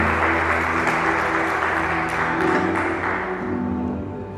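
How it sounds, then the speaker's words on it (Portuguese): A church congregation applauds the Lord, sustained clapping from many hands over a low music bed that fades slightly toward the end. "aplauda ao Senhor neste momento"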